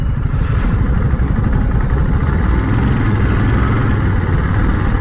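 A 2022 Ducati Monster with a quick shifter rides through town at modest speed, its engine a loud, steady, rumbling drone that stays close and constant throughout.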